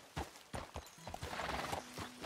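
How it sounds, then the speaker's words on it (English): A horse in the video game Red Dead Redemption 2 clip-clops with several uneven hoof thuds, then lets out a long whinny under steady game background noise. "My horse collapsed."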